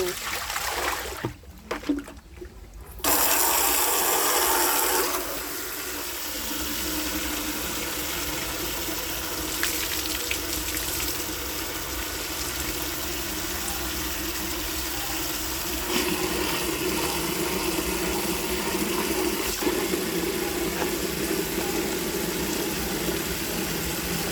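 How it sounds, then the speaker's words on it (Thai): Water rinsing black-dyed mudmee silk by hand: a steady wash of running, splashing water continues throughout, loud and close, with brief handling noises near the start. "ล้างให้น้ำสะอาดเลยนะคะ"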